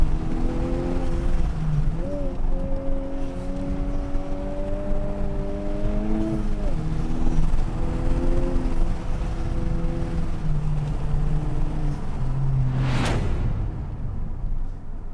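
A car accelerates in second gear through a track turnaround on cold pavement, its engine note rising and falling steadily with gear-like pitch sweeps, close and sustained, ending with a sharp brief burst near the end.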